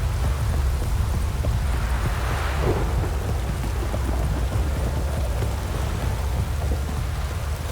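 Heavy, steady rain pours down in The Witcher 3: Wild Hunt, a dense, continuous hiss with low rumbling underneath, loud and unbroken from start to finish.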